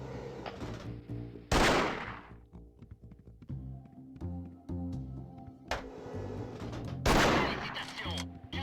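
Two loud, isolated gunshots sound a few seconds apart in the Anti-Terror Force GIGN video game, each with a short decaying tail over a quiet, low in-game musical background.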